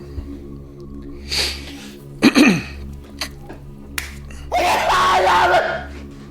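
A sharp, explosive sneeze bursts out midway, framed by breathy sniffs and short vocal noises, with a louder voiced outburst near the end.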